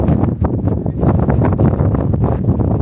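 Strong gusts buffet the microphone with loud, low rumbling bursts throughout on a hike in Snowdonia, Wales, no other sounds clearly audible.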